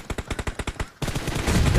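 Automatic gunfire in the BGMI (PUBG) battle royale video game: a rapid burst of about eight sharp evenly spaced shots, followed by denser, louder sustained firing and noise.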